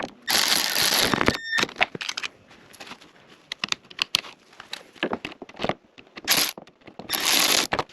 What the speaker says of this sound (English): So we're actually just going to put these little screws in real quick.